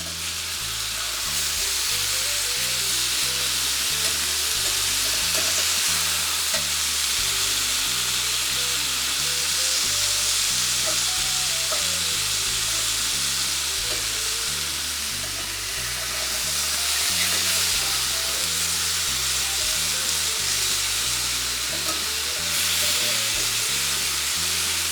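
Steak bites sear undisturbed in a hot pan, making a loud, constant close-up sizzle that runs throughout over a steady rhythmic background music beat.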